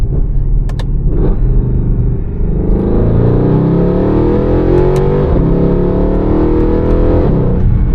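A 2012 Mercedes-Benz C63 AMG W204 with its 6.2-litre V8 pulls away at night, a loud, close rumble that climbs into a strong, rising rev as it accelerates and then holds steady, with no talking.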